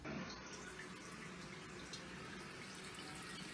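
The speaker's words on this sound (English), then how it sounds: "We'll let the water back in the tank" A toilet tank refilling with water after its flapper valve was replaced, giving a steady, continuous rushing and hissing of running water, close and even throughout, with no talking.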